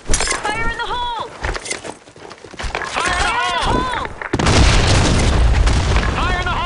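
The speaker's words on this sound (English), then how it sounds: "Fire in the hole. Fire in the hole. Grenade." Grenade blasts in the shooter game BlackShot land amid gunfire and layered radio voice callouts, with heavy booming impacts and a sustained rumbling roar in the second half.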